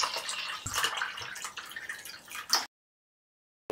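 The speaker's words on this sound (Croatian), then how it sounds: "Sada ćemo u lavor ili u neku posudu da sipamo" Bleach and water poured into a basin, a close, bright splashing pour lasting a little over two seconds with a few gurgles before it stops abruptly.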